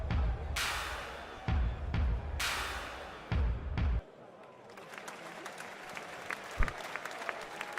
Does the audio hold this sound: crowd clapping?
yes